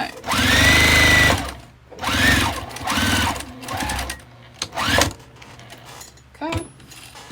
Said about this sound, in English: Okay, I got it lined up and sewn. I'm just sewing